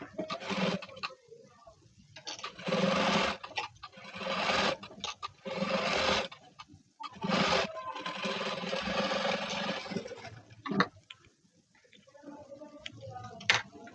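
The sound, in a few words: sewing machine stitching blouse double piping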